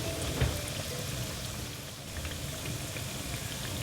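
Plantain fritters frying in hot oil, a steady dense sizzle and bubbling close by, with no talk over it.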